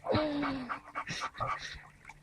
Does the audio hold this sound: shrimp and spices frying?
no